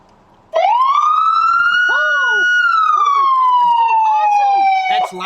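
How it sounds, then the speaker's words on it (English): A police car siren wails loudly and close by, rising then sweeping slowly down in one long continuous tone, with brief bits of talk over it near the end. "would you put your lights and siren on for all the kids at home?"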